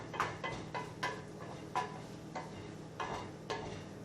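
Curry cauliflower stirred in a pan with a spoon, giving a series of about eight distinct scraping, clacking strokes at a steady rhythm, close and fairly quiet with a faint sizzle underneath.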